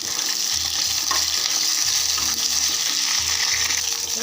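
Green chilies and tamarind fry in hot oil, making a dense, continuous sizzle close up. Soft stirring and scraping bumps repeat underneath without a break.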